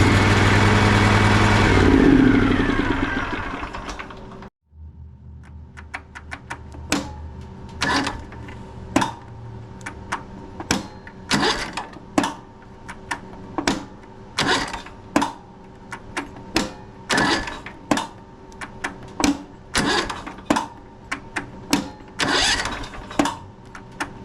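A riding lawn mower's engine runs loudly for several seconds, then cuts out, and the electric starter cranks again and again in short, sharp bursts with brief pauses between them.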